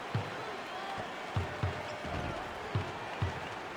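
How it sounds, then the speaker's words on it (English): Crowd murmur in the basketball video game NBA Live 09 forms a steady arena bed, with sneaker thumps or ball bounces punctuating it every so often. "you can feel the home crowd starting to get a little restless"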